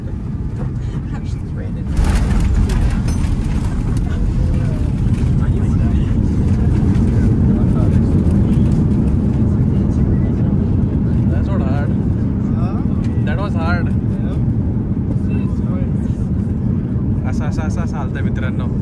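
Steady, loud airplane cabin roar with rumbling low engine and wind noise as the jet descends through rough turbulence to land at Istanbul Airport; a brief gap at the start, faint clicks and rattles later.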